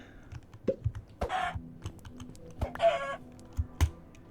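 A chicken in a fantasy role-playing video game clucks in a few short, separate bursts against quiet background clicks and thumps, with no talking.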